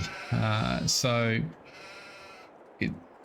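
Sheep bleat in the Adelshoven farming video game, with two long, wavering bleats close together and then a short, clipped bleat after a pause.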